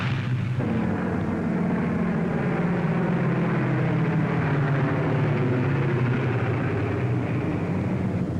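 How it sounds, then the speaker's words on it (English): A WWII formation of eighteen B-17 bombers on a raid toward Rouen, heard as a loud, unbroken, heavy engine drone that holds steady throughout. "A formation of 18 B-17s was on its way to attack Rouen."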